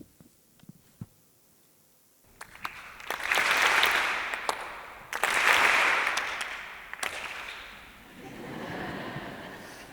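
A lecture audience claps together in short bursts during a rhythm exercise, with quiet room sound and a few isolated claps leading into three swells of group applause, each lasting a second or two before dying away.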